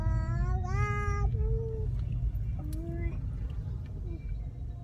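Margarida the cat meows in long, drawn-out, sing-song cries inside a car, several rising and falling calls in turn over the low hum of the moving vehicle.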